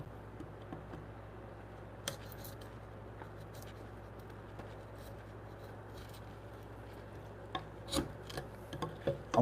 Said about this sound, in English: Let me take my wider chisel so I can take a couple wider swaths out of this.